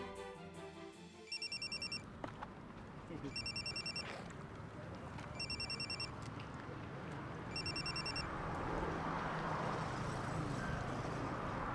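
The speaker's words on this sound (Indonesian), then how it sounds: "sekarang Senandung telepon Papa." A telephone rings during a call in four evenly spaced electronic bursts, faint and steady over a low background hiss.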